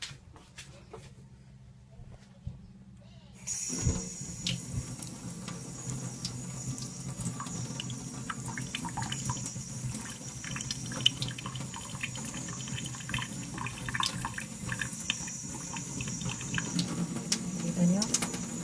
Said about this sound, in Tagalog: So, para makita natin kung talagang totoong bubog siya, ito nasa kamay ko, huhugasan ko siya.